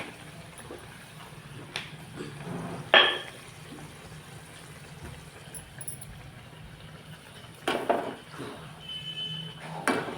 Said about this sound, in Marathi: ही तुपात तळते तुपात हे तूप आहे घरच्या तुपात तळायचे